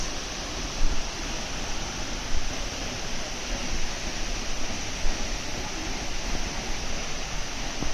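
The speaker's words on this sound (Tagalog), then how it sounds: "Manong Falls" Manong Falls gives off a constant broadband roar of falling water that fills the scene evenly for the whole stretch, with small surges and no voices.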